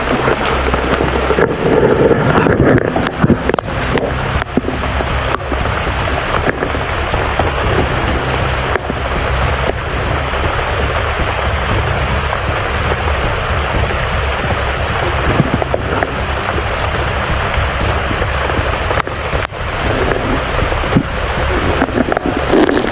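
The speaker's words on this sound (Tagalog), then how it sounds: "Napakalakas ng ulan" Very heavy rain pours down continuously in a dense, loud roar of drops, with sharp impacts hitting a surface close by and low rumbling underneath throughout.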